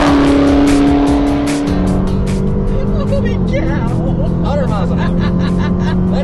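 Inside a Dodge Charger Hellcat at speed on a racetrack, the engine roars loud and close, its pitch dropping as the driver lifts off the throttle, with a steady drone continuing afterward and someone talking over it.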